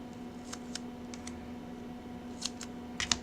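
Scissors snip through double-sided tape in a handful of quick, crisp cuts spread over a few seconds, fairly close and faint against a steady low hum, while making a file-folder album.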